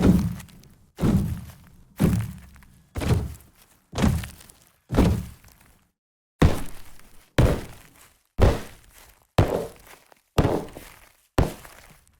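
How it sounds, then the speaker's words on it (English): Heavy stomp hits repeat about once a second, each a deep boomy thud with a sharp attack and short decay, punchy and close, with a brief gap midway. "in this video we're going to be making stomp kick samples that sound something like this"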